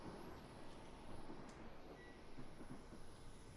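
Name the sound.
passing train in a train driving video game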